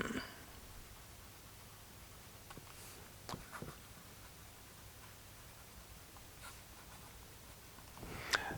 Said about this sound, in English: So the nib gives a certain amount of feedback, not too much